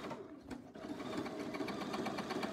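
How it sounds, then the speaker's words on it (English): A sewing machine runs steady embroidery stitching on a zippered box bag, a fast even whirring chatter that starts after a brief pause and holds at moderate loudness, close by, with no talk. "when you're embroidering, you're really just letting the machine do the work"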